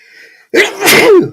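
A single loud, close sneeze bursts out after a brief quiet lead-in and trails off, with no talk over it.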